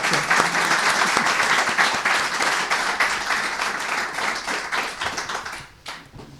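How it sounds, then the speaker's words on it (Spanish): A lecture audience claps loudly for a speaker at a talk on libraries in film, dense, steady applause that fades toward the end with a few last scattered claps. "Así que le vamos a dar un fuerte aplauso."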